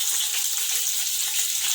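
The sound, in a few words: bitter gourd frying with salt and garlic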